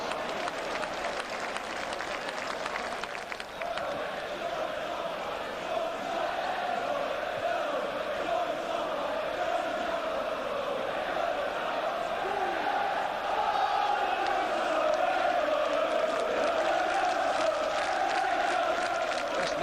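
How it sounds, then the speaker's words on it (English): A packed crowd at a 1986/87 First Division football match between Newcastle United and West Ham United roars continuously, a dense, steady wall of noise with chants rising and swelling throughout. "Listen to this crowd."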